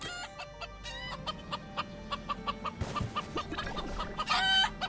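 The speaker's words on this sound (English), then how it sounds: "I hear the calls of the chickens there" Chickens cluck and a rooster crows in the video game Bridge Constructor Portal, a run of repeated clucks against steady game music, with a louder burst near the end.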